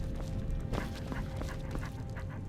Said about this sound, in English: What a good dog.